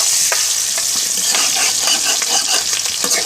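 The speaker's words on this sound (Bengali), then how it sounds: "আমি যে রান ভেজেছিলাম সেই তেলের মধ্যে 2টা তেজপাতা দিয়ে দিলাম এবং পেঁয়াজ কুচি দিয়ে দিচ্ছি" Chopped onions and two bay leaves frying in oil left from frying chicken leg pieces for a chicken roast: a loud, steady sizzle with scattered clicks of stirring, and no voices.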